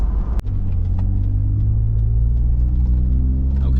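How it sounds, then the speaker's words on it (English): Ford F150 EcoBoost truck with an AWE exhaust and SPD resonator accelerating at partial throttle up to highway speed, a steady deep engine rumble with a low exhaust drone heard from inside the cab. "this is partial throttle, accelerating up to highway speeds."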